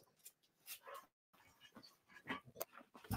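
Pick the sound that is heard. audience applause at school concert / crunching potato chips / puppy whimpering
puppy whimpering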